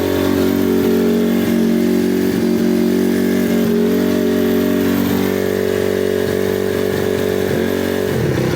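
A Honda CRF250R dirt bike engine runs steadily after starting, a loud, continuous, close-up drone with slight wavering in pitch and no talk.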